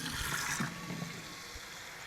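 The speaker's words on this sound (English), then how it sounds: "I'm gonna get my pot like so, and I'm gonna put some water in it." Tap water running into a cooking pot in a home kitchen, a steady close rushing stream that is loudest at the start and then settles into a softer, even flow.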